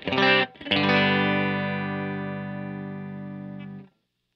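A clean electric guitar chord from a Fender Stratocaster through a 1966 Fender Twin Reverb tube amp rings out after a quick pick, sustaining warmly and evenly for a few seconds before cutting off.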